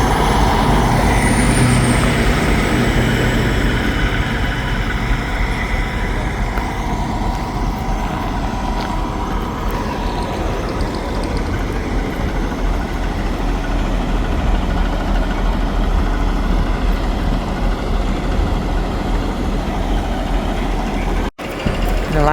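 Trucks gathered for a trucking memorial ride in interior Alaska idle as a steady, deep diesel rumble that fills the scene and stays constant for a long stretch, with no talk over it.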